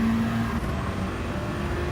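Race cars lapping Bathurst in the GT Sport video game, a steady engine drone with a sustained whine, continuous and moderately loud, no voices over it.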